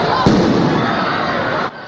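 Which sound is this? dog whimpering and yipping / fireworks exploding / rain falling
fireworks exploding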